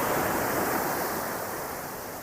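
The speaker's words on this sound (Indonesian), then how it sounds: "Seperti itu caranya gelombang menghancurkan pohon-pohon di tepian pantai itu" Ocean waves break along an eroding beach shore in Lede village, a steady broad roar of surf that eases slightly toward the end, with no voices.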